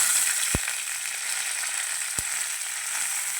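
Curry leaves hitting hot coconut oil with mustard seeds for a Kerala soursop curry make a loud, steady, hissing sizzle close up, broken by two soft low thumps, with no talking.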